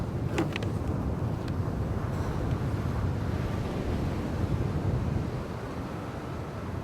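Small sea waves wash steadily off the coast of Alaska as wind buffets the microphone, producing a continuous loud rushing with no speech.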